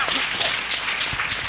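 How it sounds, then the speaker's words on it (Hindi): Loud applause from a church congregation during a prayer service, a dense continuous wash of clapping hands that fills the whole moment. "एक बार और जोरदार ताली"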